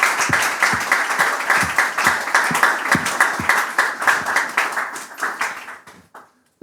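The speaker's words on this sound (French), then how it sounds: "est-ce qu'on peut donner une main d'applaudissement pour notre beau panel" Audience applause rings out for a conference panel on African entrepreneurship: dense, steady clapping from a room full of people, with sharp individual claps standing out, gradually thinning and fading to silence at the end.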